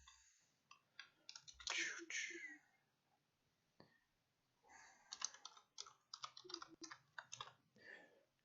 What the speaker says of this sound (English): Sorry about the incredibly slow typing.